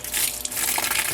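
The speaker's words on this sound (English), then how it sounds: "I like to try to get the water around the drum, just to get some of the detergent off the diapers" Water gushes steadily into a washing machine drum full of cloth diapers, a close, continuous splashing rush without pauses and no talking over it.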